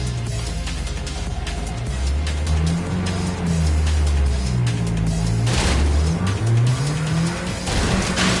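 A car driving in the video game Neverness to Everness: a loud, close engine rises and falls in pitch through gear changes, with bursts of tire noise and a brief rushing surge partway through.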